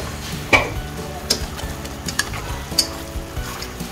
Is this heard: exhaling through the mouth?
no